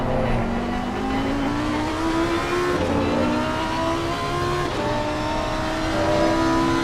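A mid-engine Lamborghini race car in the PC racing game Race On at Silverstone, its engine droning and rising steadily through the gears with brief tire squeal, loud and continuous without voices.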